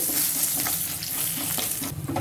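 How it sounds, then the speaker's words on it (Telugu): Urad dal, chana dal, cumin and broken dried red chillies tempering in hot oil, producing a brisk, close crackle and sizzle with small pops, steady and unaccompanied by voices. "పోపు దినుసులు వేగాయి."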